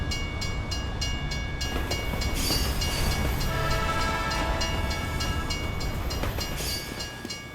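Moving trains on a Team Fortress 2 map roll past as a steady, loud rumble of rail wheels with rhythmic clacking, running unbroken for the whole stretch with no talk.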